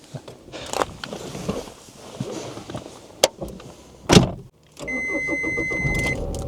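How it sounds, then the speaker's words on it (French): A car starts up in a driving vlog, with a door thud, brief clatter and beeps before the engine catches and settles into a steady idle hum with a high electronic tone. "ça c'est une bagnole qui démarre bien, qui fonctionne"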